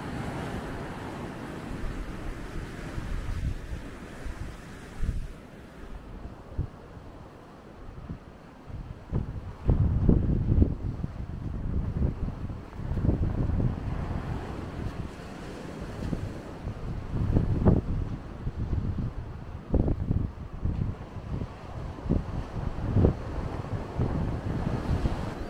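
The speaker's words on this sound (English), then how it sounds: "Wind's really picked up now." Strong coastal wind gusting and buffeting the microphone at an Australian shore at sunrise, a continuous loud roar with rising and falling gusts and waves washing beneath, no voices.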